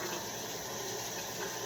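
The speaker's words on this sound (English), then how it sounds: "turn the tap back on" Water running steadily from a bathroom tap into a sink, a soft continuous hiss for a moment with no talking.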